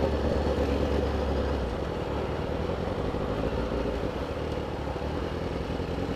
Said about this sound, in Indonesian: Wah, duk-duk, beledak-beledak nih. Knalpotnya nembak-nembak.